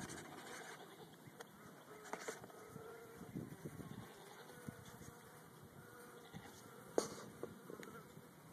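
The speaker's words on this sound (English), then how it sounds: "you see them blowing. They're just fanning." Honeybees fanning at the hive entrance during installation of a new package with a caged queen, a soft steady insect buzz and whir close by, with faint breathy sounds and a few light bumps over it.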